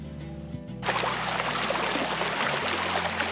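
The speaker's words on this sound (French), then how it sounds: "Il y a un ruisseau, there's a stream, un ruisseau, a stream." Stream flowing beside a hiking trail in Northern Ontario: a steady, close rush of water comes in after a brief quieter moment and continues evenly to the end.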